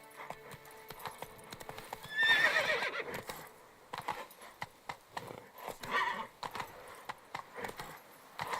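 Roach, a horse in The Witcher 3 riding through Toussaint, runs with a steady clip-clop of hooves, a whinny early on and rhythmic footfalls that keep going.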